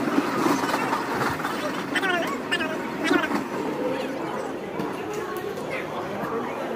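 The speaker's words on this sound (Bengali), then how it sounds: "ব্যান্ডেল এসে গাড়িটা থামলো।" A passenger train pulls into Bandel station and comes to a halt, its low rumble and squealing brakes running under constant chatter from passengers nearby.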